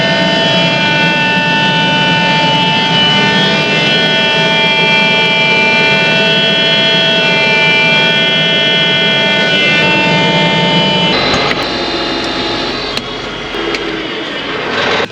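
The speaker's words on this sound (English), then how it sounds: "That's tractor." A tractor engine runs at a steady, loud drone with a constant whine for most of the time, then the tone shifts and drops slightly near the end, with no talk.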